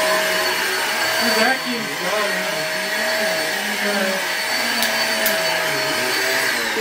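A household vacuum cleaner runs loud and steady indoors, its motor whine holding a constant pitch with slight wavering throughout.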